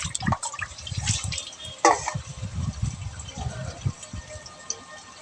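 Catla fish innards rinsed under running water: a close, steady trickle and splash with drips and one sharper splash partway through, over a low background murmur.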